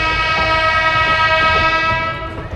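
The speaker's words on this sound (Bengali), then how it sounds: "আমাদের ট্রেনকে এখন ক্রসিং করছে 10323 হাওড়া গয়া এক্সপ্রেস।" The 10323 Howrah Gaya Express crosses on the rails beside a moving train near the line junction, a loud, steady rumble with a sustained horn-like drone, heard close and continuous before easing off slightly at the end.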